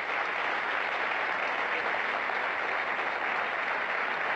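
A television studio audience applauds loudly and continuously at an evening music show, a dense, even wash of clapping with no break.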